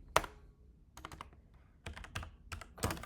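Router configuration commands typed on a computer keyboard, with a few quick clusters of close, crisp key clicks separated by brief pauses, soft and alone.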